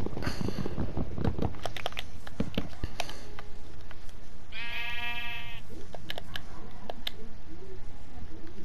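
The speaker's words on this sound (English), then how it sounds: "I'm sorry sheep, but I need you for the wall." A Minecraft sheep gives a clear, close bleat midway, set among clicks and soft pattering block sounds with no talking.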